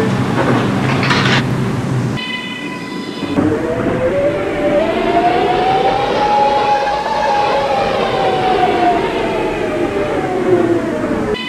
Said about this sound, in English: This is a Coney Island bound M train.